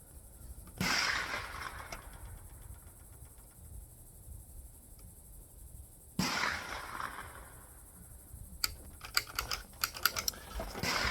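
A rifle fires at an outdoor shooting range: two sharp, loud reports about five seconds apart, each ringing out with a long decaying echo, followed by a quick series of fainter metallic clicks.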